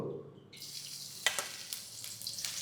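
Green chillies, garlic, ginger and onion hit hot oil in a pan, starting a loud, bright sizzle that carries on with a few sharper crackles and stirring clinks.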